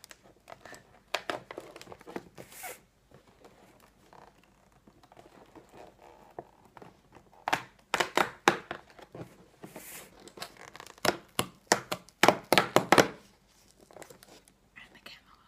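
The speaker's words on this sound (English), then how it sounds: "I don't think you can open this box softly." Cardboard advent calendar box being opened up close, with bursts of crinkling, tearing and rustling plus soft thuds, irregular and intermittent, with quiet gaps and some soft speech between.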